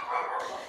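A dog gives a short, sharp bark at someone walking past the house, one brief close yelp that is fairly quiet and heard alone.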